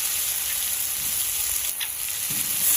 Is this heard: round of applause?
no